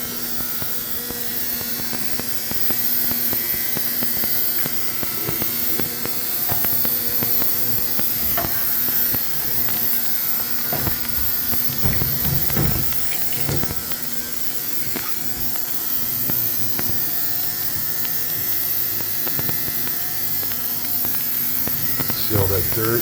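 An ultrasonic cleaning machine for window blinds runs with a steady buzzing hum and high whine, joined by irregular clunks and splashing, heard close and fairly loud.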